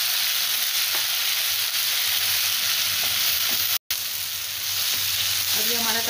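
Tomatoes frying with garlic and ginger paste in a pan, a steady loud sizzle throughout with a brief stir partway, close and alone without talking.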